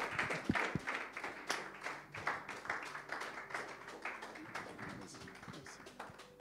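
A church congregation applauds evangelist Sonny Paka, a rapid patter of many hands clapping that sounds faint and somewhat distant, fading slightly toward the end, with no voices over it.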